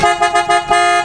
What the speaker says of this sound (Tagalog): Tsaka testing natin yung kanyang horn mga boss.